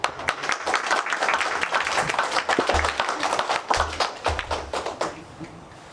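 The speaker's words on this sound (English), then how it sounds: "I think we give a round of applause to." Audience applause at a college 'Meet a Monk' program at Norris Arch, a steady, dense burst of many hands clapping that holds for several seconds and then gradually thins out.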